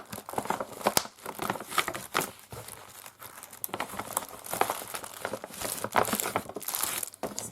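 Small plastic envelopes from a cross stitch kit crinkle and rustle up close in irregular bursts, with sharp crackles scattered through a steady handling noise.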